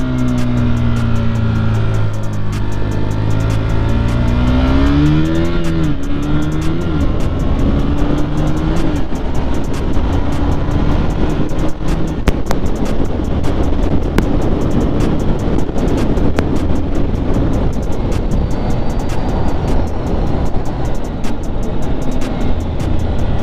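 A 2021 KTM Duke 125 motorcycle revs on a mountain road near the Col de Vence, its engine note rising early on, then a continuous roar mixed with heavy wind buffeting on the microphone, close and loud with no talking.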